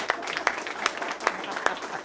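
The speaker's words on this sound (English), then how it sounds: "Let's give Tara a round of applause" A school audience applauds briefly, a short burst of many hands clapping at moderate distance, fairly quiet and uneven.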